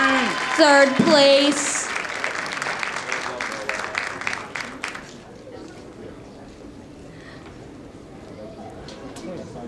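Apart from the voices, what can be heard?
audience applause at a fashion show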